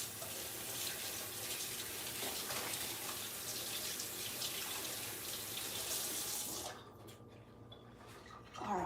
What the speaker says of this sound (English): let me rinse my hands now